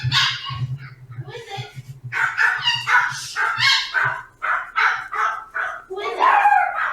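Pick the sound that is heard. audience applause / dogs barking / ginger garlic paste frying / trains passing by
dogs barking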